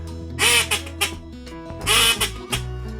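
A duck call blown to mimic a hen teal gives two loud, close bursts of raspy quacking notes with short pauses between them, and no voices.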